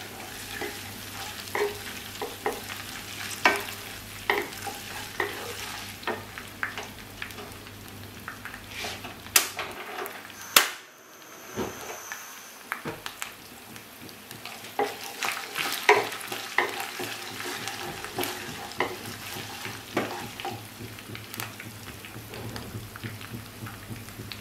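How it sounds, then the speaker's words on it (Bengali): Ginger paste frying in oil with browned onions over very low heat, a steady crackling sizzle with scraping stir strokes against the pan, briefly quieter midway before the frying resumes. "এবার আমি আদা বাটাটা তেলে দিয়ে দেব"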